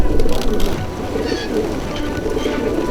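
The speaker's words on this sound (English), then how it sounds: "these pigeons are safe to fly for another day" Racing pigeons coo in soft, repeated throaty bursts nearby, against a low rumbling background.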